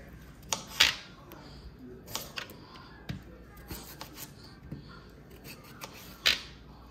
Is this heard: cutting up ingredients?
yes